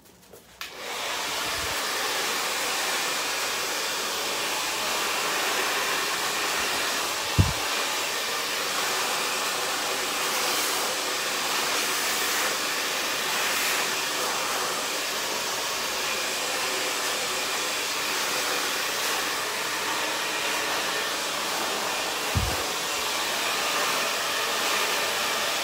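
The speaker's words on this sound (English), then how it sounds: "I'm going to use my comb as I blow dry" A hair dryer blows steadily on short, slightly damp hair, a loud continuous whoosh with a few faint clicks or bumps as a comb works through.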